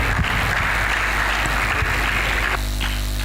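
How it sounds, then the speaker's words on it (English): Applause for a speaker at a tech entrepreneurship conference, a dense steady clapping crowd in a hall with a low hum underneath, cutting off near the end. "He deserves a round of applause."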